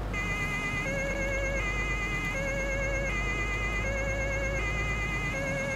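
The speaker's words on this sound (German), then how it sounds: "Und ihr habt eine Sirene." A police car siren from a Farming Simulator 19 mod, a car with Stuttgart plates, wails in a continuous repeating up-and-down electronic tone that stays loud and alone over a low engine hum.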